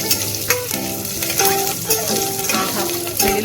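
Garlic sprigs stirred in a frying pan for a pappu charu dish, a loud steady sizzle of hot oil with close scraping strokes of the spoon on the pan.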